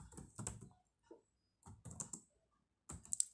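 Typing on a computer keyboard comes as three short bursts of quick, close key clicks, faint overall, separated by brief pauses.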